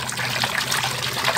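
Water trickles and splashes steadily while toy animals such as a duck are washed, a soft continuous running flow close by with no voices.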